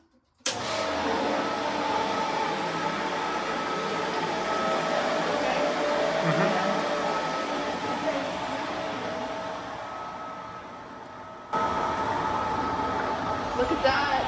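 A backyard pool pump and suction vacuum kick on abruptly once the breakers are switched back on, then run as a steady, loud broadband whoosh and hum that shifts in level near the end.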